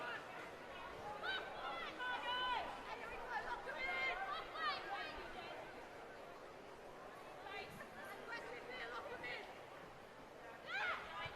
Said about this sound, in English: the crowd just slowly starting to build in here at Dolphin Stadium